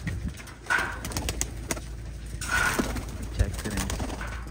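Pigeons in a loft used for kabootarbazi, including young birds, coo in several soft repeated bursts at close range over steady background noise.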